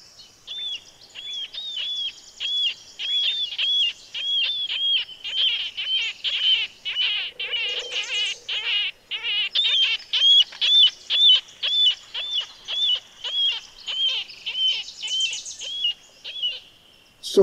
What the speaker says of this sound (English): I have never seen a marbled murrelet in the summertime. But what we listen for is their call.